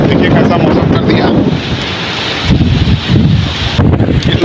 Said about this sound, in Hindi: बहुत हवा चल रहा है, मौसम चेंज हो गया, तूफान आ गया है